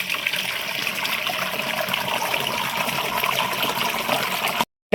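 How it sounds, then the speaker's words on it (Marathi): Continuous rush of drinking water pouring into a barrel, steady and close for several seconds before cutting off abruptly. "आता प्यायचं पाणी भरून घेते इकडं बॅरलमध्ये"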